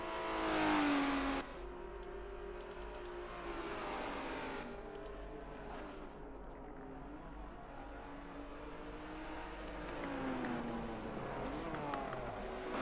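GT4 race cars at Suzuka during a European GT4 race: loud engines drone and rev continuously, the pitch climbing and falling through gear changes as the cars run close together.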